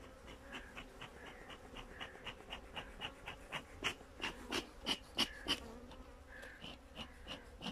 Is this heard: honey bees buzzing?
yes